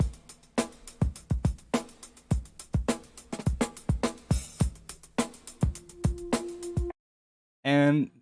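A punchy breakbeat of kicks, snares and hi-hats plays in a busy groove, stops abruptly, then a short burst of sound follows after a gap.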